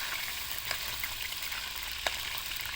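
Tocino and chorizo sizzling in a pan, a steady close hiss of frying fat with a few small pops and crackles, no voices.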